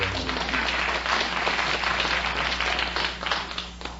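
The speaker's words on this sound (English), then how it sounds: "there they are, the same moonshiners applauding." A studio audience at a television quiz show gives loud, steady applause that holds for several seconds and then tapers off.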